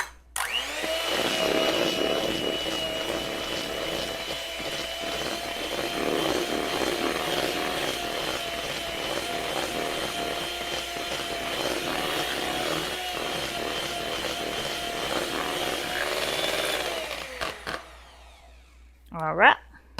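Electric hand mixer whirring steadily through peanut butter cookie batter with eggs and vanilla, a loud continuous motor drone that runs for about seventeen seconds, then cuts off into near silence with a brief voice at the end.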